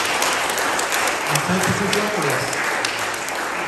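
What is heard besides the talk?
audience applause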